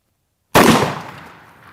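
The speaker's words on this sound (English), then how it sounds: "Same 10 gauge slug, 750 grains of lead going down range." A 10 gauge shotgun slug fires at watermelons outdoors: one loud, sharp blast after a moment of silence, followed by a fading echo.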